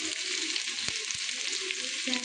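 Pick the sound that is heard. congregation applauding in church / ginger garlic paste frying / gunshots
ginger garlic paste frying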